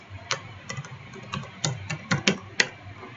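Keys clacking on a computer keyboard as a command is typed into an MS-DOS window, a loose run of separate taps with a few sharper strikes, close and clear with no talking.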